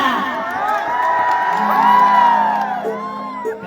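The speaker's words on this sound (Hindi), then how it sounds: "ताली और हाला" At a stage show held for a birthday celebration, a crowd cheers and whoops, loud overlapping voices and shouts with some sustained tones beneath, rising in the middle before easing slightly.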